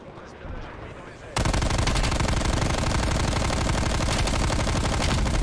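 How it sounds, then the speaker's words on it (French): Dense, loud automatic gunfire rattles continuously in Black Ops Cold War after a brief quieter stretch of game sound at the start. "il y a un snipe qui va tirer dessus là"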